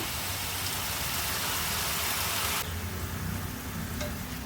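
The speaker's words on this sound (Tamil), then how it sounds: "தேங்காய் வதக்குனதுக்கப்புறம் இதில் வெல்லம் கரைச்சி வச்சுருக்கிறத ஃபில்டர் பண்ணி சேர்த்துக்கிறேங்க" Filtered jaggery syrup poured into a pan of sautéed coconut for a sweet kolukattai filling gives a steady, close, rain-like hiss that shifts partway through to a quieter, lower sizzle.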